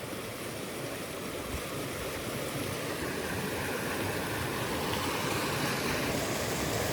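Creek water rushing over rocks at the 12 Mile Creek shut-ins, a loud, steady broadband roar of flowing water that carries on evenly without pause and with no voices.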